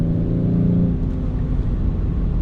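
A 2019 BMW 840d xDrive diesel coupe accelerates hard, a steady loud low engine drone and rumble heard from close by, with no talking.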